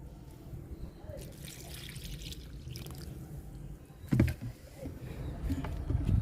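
Leftover kitchen-waste liquid fertilizer is poured onto drumstick and curry leaf plants, a soft continuous trickle and splash near the ground, with a faint voice in the background.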